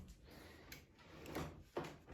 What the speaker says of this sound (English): There is a drawer underneath that comes out, and this lifts up as well.